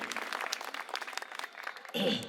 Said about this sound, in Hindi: हमारे एक एक कार्यकर्ता के लिए पहले जोरदार तालियां बजाइए